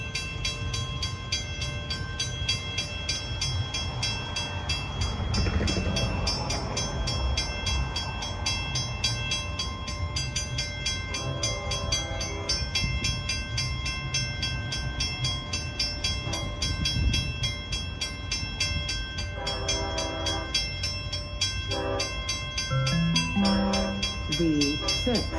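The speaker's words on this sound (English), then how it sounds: "The 6:21 train to Speonk is now arriving on platform B" Train 42 to Speonk passes on the Montauk Branch east of Babylon with a steady, heavy rail rumble. Brief tonal bursts rise over the continuous roll of the cars.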